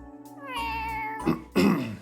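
A cat meows in the video game Trails to Azure, a drawn-out clear meow followed by shorter, harsher cries, close and alone.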